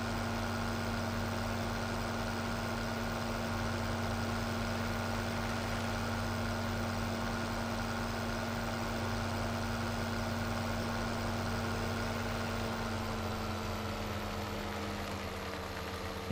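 Tracked tractor engine in Farming Simulator 17, hauling a plow: a steady, loud low drone with a constant hum and rumble, running alone and unbroken throughout, with no talk.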